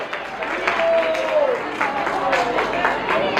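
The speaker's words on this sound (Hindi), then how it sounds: "तालियां बजाइए, हरि बोल।" Steady applause from a crowd at a Hindu religious storytelling festival in a Sanatan Dharma temple, with scattered voices and a brief call of "Hari bol" rising over the clapping throughout.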